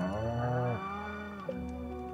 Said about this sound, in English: Alright, let's see how the cows feel.